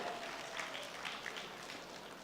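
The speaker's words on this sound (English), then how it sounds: "So let's also give her a big round of applause." Steady, fairly faint applause from an audience at a summer fashion festival show, a continuous wash of clapping for a backstage manager, no voices.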